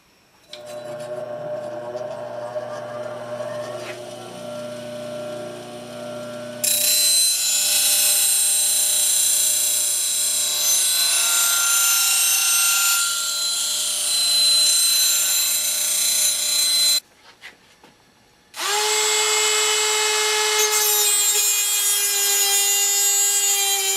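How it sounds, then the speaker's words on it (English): Bench grinder grinding down a homemade parting tool: a steady motor whine with a harsh, bright grinding rasp in long passes, broken by a short pause, close and loud. "I'm going to go to the grinder and grind that off"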